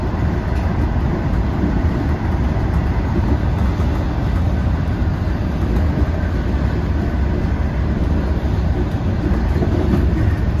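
Long Island Rail Road train running nonstop from Speonk to Jamaica, a steady, heavy rumble with rattling underneath, heard continuously from on board with no talking.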